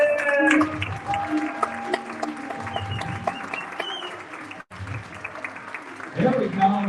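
An audience claps its hands in steady applause at a live gathering, mixed with music and a voice talking over it, with a brief drop near the end before a louder swell.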